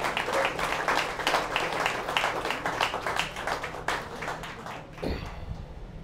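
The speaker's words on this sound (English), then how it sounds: "We need a hand clap for that one." Applause from an audience at a US Senate campaign event in Massachusetts, a steady wash of clapping that fades out near the end.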